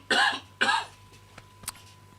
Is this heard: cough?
yes